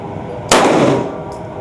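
A Daniel Defense H9 handgun fires a single HydroShock round: one sharp, close, loud crack after a brief quiet, then a fading echo.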